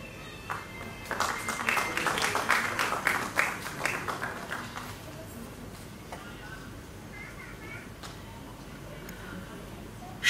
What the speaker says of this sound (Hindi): योगेश के लिए तालियां बज जाएं आपकी